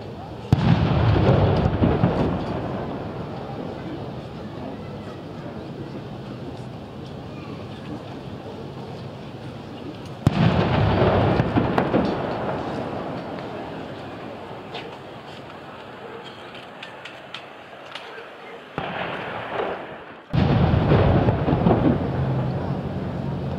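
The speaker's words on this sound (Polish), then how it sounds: "Z ORP Błyskawicy zabrzmiał salut armatni z 21 wystrzałów." Three booming shots of a 21-gun salute fired from the Polish warship ORP Błyskawica in Gdynia, each a sudden loud blast followed by a long rolling echo fading over open water.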